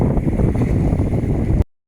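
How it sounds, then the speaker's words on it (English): Strong wind buffets the microphone on a beach on Brownsea Island, a loud continuous low rumble that cuts out abruptly near the end. "It's windy here today,"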